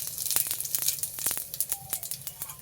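Radhuni seeds dropped into hot oil for a village-style gourd-leaf and small-fish curry crackle and spit in quick, irregular pops over a soft sizzle, close and fairly quiet, with no speech.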